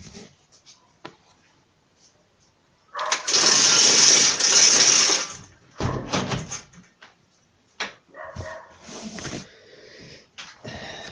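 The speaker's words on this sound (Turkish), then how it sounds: "bir saniye camı kapatayım." A window being shut: a long rolling slide followed by several knocks, clicks and rattles of the frame and latch, close by.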